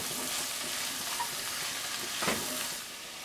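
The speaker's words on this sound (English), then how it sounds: "Give them a stir" Wild carrot root and carrots in a soup pot with turkey balls, a soft steady hiss as they cook, with a brief scrape of stirring near the end and no talking.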